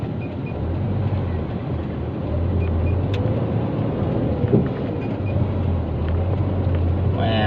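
A loaded truck's engine labours uphill in third gear on a U-turn road, a steady loud drone with low rumbling tones that holds throughout, heard from inside the cab with road and wind noise.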